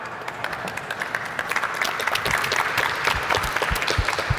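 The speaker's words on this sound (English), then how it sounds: "so let's give them some good applause here" An audience at a startup pitch showcase applauds the presenters, a thin patter at first that swells into fuller, louder clapping with distinct sharp claps near the end.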